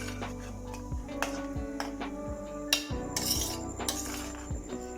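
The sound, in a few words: stirring banana stew in a pan with a spoon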